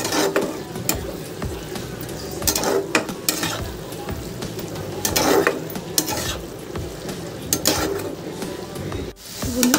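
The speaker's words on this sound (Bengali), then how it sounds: "এবার চিংড়ি মাছটা ভালো করে চিকেনের সাথে মিশিয়ে দেবো" A spatula stirs shrimp and chicken with snake gourd in a hot pan, making repeated scraping and clattering strokes over a continuous sizzle.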